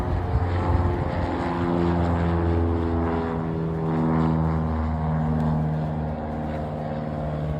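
Cessna 172 propeller airplane heading out to fly from a private airport, a continuous droning engine tone that swells and eases slightly at moderate distance, with no talking.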